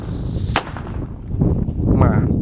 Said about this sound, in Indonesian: di dalam tanah ini ada mercon tikus santor. Kita nyalakan 5 sekaligus